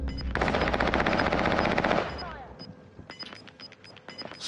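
Rapid automatic gunfire in a Call of Duty match, a dense, loud burst of shots for two seconds that thins into scattered single cracks and pings.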